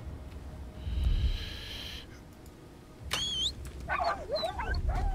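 Dogs in the video game Fade to Silence give short snorting, whining and yelping calls in the second half, after a quieter stretch of low rumble and breathy ambience.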